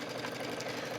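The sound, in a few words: sewing machine sewing a stretch stitch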